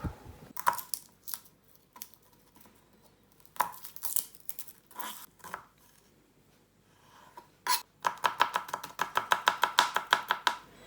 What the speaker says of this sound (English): So I've cut the garlic up quite fine, like that, and then just cut all of it the same